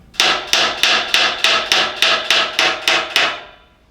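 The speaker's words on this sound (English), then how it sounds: "Just go ahead and hammer here on the side." A hammer taps sharply on the side of a Wessex Z rotary valve, driving it into its casing: about eleven evenly spaced, ringing metallic strikes, close and loud, each with a short decay, then the ringing fades out.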